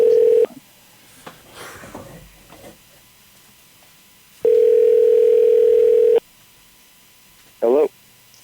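A telephone dial tone sounds, then voices talk quietly. The tone returns for nearly two seconds before a short burst of dialing tones, as if someone is placing a call.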